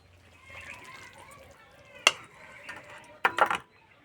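Cooked egg korma scraped and poured from a pan with a metal utensil, a few sharp clinks and scrapes standing out over a quiet background, with soft liquid movement between them.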